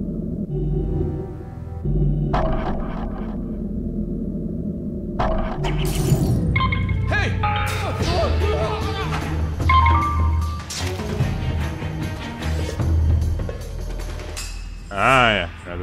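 In the stealth game Mark of the Ninja, a lamp shatters with a sharp glassy crash among clanking mechanical effects and game music, while a player talks over the loud, busy sequence.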